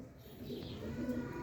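A Heera Lal pigeon coos softly and briefly over a steady low background hum, with no talking.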